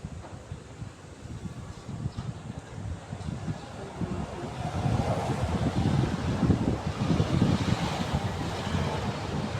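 Strong wind buffets the microphone with a steady roaring rush that swells louder partway through, like gusts blowing hard outdoors, with no clear speech.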